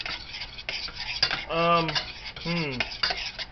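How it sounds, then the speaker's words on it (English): A spoon scrapes and clinks around a pot of caramel sauce made for cinnamon caramel rolls, with steady stirring strokes and a couple of brief tonal squeaks partway through. "We'll get this all stirred down here."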